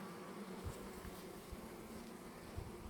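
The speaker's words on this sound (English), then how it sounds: "There's lots of bees down there." Honey bees buzz in a steady, dense drone throughout, a close swarm hum from an open hive, with no talking.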